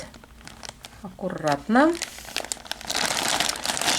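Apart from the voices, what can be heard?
plastic bag crinkling while contents are poured out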